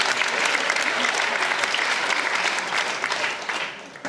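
An audience applauds a card trick in which two cards are tossed into the air, giving a brisk, even round of clapping that thins out and fades near the end.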